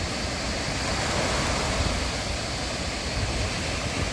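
Continuous rush of surf breaking on a sandy shore at İztuzu Beach in the evening, a steady broadband wash with gentle swells, close and fairly loud, no voices.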